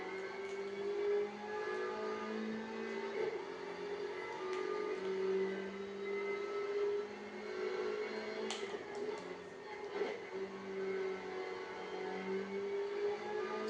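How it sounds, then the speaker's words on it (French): Engines of GT4 race cars in Gran Turismo 7 hum steadily on a small circuit, a continuous mid-level drone with shifting tones and brief higher whirs, and no clear voices. "Petit circuit en train de faire une petite course de GT4."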